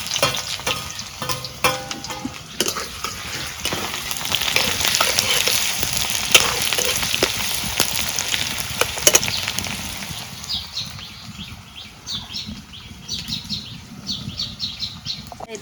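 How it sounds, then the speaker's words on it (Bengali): Chopped onions hit a hot wok and fry with a steady, loud sizzle, joined by scraping stirs and a few clinks, before the frying settles into a softer crackle; the dish is a home-style chicken curry. "এখন পেঁয়াজ কুচি দিয়ে দেই।"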